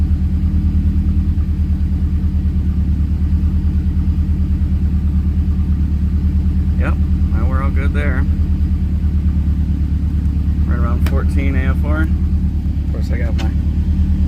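A 2011 Subaru WRX with a freshly rebuilt turbo idles steadily and loudly through an idle relearn, its low rumble constant throughout while someone speaks briefly over it midway.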